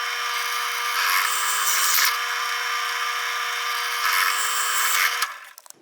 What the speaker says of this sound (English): I'm going to be drilling the holes that I'm going to tap. So I'm using a 1/4 inch bit